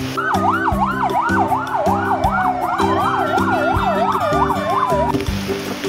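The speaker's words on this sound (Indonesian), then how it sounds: "Mobil damkar." A toy fire truck siren wails in fast rising-and-falling cycles over a looping electronic melody, loud and close, then stops while the tune continues.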